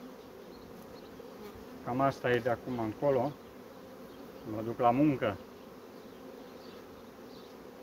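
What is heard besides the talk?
honey bees buzzing around a beehive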